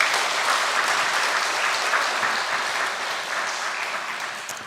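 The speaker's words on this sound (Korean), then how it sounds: "큰 박수로 환영하겠습니다" Congregation applause at a Sunday church service welcoming a young violinist, a steady, dense wash of clapping that stays loud throughout and eases off slightly toward the end.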